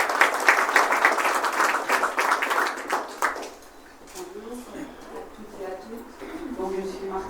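Audience applause at a political campaign gathering, dense clapping from a crowd for about three seconds before fading, followed by a voice speaking.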